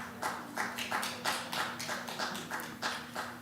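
Church small-group audience clapping to welcome a shepherd leader to the front; a fairly faint, steady run of individual handclaps in a regular rhythm, about three per second, with a low hum beneath.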